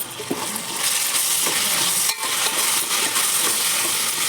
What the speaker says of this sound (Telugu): ఇప్పుడు ఈ టమాటా ఉల్లిగడ్డ మగ్గనియాలి.